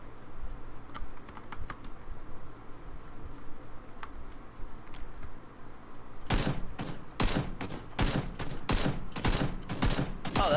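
Gunfire in a hacker simulator shooter, at first a few scattered sharp shots over a steady background hum, then from about six seconds dense rapid bursts of close, loud shots in quick succession.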